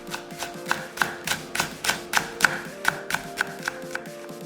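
A knife slices a quarter of a green onion thinly for a Korean perilla leaf dish, making a quick, even series of crisp taps on a cutting board, close and clear with no talk.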